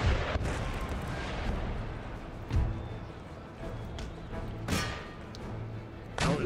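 Cannon and artillery shots in the Empire Total War video game during a storming of Copenhagen: several deep booming blasts ring out over a dense, continuous battle din, with a voice faintly present underneath.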